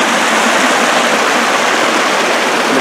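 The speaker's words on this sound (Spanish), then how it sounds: "Ahorita hay que cruzar el río con mucho cuidado" River water rushing steadily at a rocky crossing on a trail, a loud, continuous broadband roar close by with no pauses.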